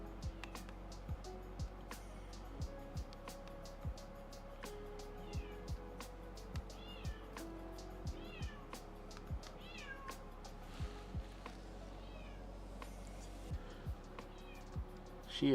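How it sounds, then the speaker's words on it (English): A cat meows loudly and repeatedly in a kitchen, its calls rising and falling in a rough rhythm over a steady background hum, with sharp clicks or taps scattered throughout. "that is probably the loudest meow I have ever heard out of a cat"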